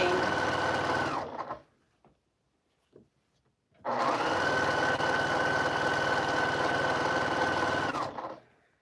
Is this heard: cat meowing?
no